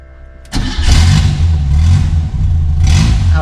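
A Škoda Rapid 1300 engine cranks briefly and catches on the first try, then settles into a loud, steady, close-up idle with a small rise in revs near the end.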